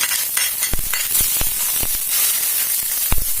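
Soft glass noodles stir-fried in a hot pan with sauce and shiitake mushrooms, a steady loud sizzle broken by sharp scraping strokes of the spatula, close and without talk.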